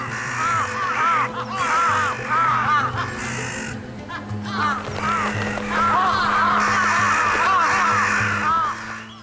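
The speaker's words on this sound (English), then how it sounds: "Loud squawks alert the scavenger to a possible jackpot" Many crows caw and squawk at once in a noisy, overlapping chorus over a deer carcass in winter Japan, going on throughout and swelling toward the end.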